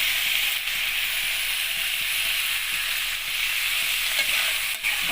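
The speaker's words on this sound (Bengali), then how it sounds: "এবারে আমি জল দিয়ে দেব।" Water added to a hot pan of braised river fish and taro curry produces a steady, loud sizzling hiss with no gaps, continuing evenly throughout, with no voices.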